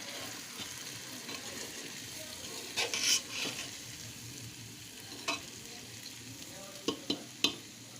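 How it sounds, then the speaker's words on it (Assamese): Chicken biryani frying in a pressure cooker, a soft low sizzle under light stirring, with several sharp clicks and scrapes of a spoon against the metal pot. "এতিয়া অলপ লৰাই দিম।"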